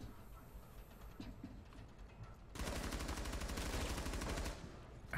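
Automatic gunfire in the first-person shooter Rainbow Six Siege: a sustained rapid burst of shots rattles for about two seconds midway, loud against a quieter background of game ambience before and after.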